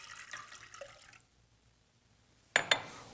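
White vinegar pours into a pickling mixture as a faint, soft liquid stream that fades into quiet, followed by two sharp clinks close together.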